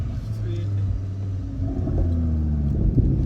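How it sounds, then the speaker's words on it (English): Low engine rumble of a car being driven out, steady and close, rising slightly toward the end, with people talking over it. "I'm taking the car out."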